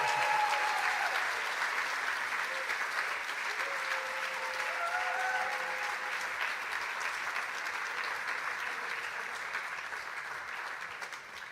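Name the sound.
audience applauding teams at a business plan final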